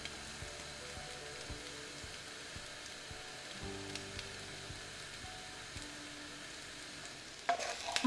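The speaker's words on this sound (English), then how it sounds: "Crispy, spicy, stir-fried cauliflower." Crispy, spicy cauliflower stir-frying in a pan makes a faint, steady sizzle with light scraping and clinks as it is tossed, and ends in a louder clatter.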